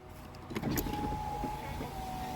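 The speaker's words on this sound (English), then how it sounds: "Automatic up and down windows on all sides." Steady electric whirr of a Volkswagen Golf SportWagen's power window motor running continuously, close by, with a faint mechanical hum underneath.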